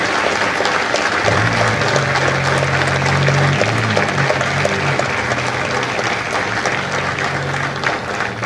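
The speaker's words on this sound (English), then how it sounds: "a round of applause for their dedicated service to foreign and country" Audience applause fills a Marine recruit graduation ceremony at MCRD San Diego, a steady, loud wash of many hands clapping throughout, with a low sustained tone from the venue running beneath it.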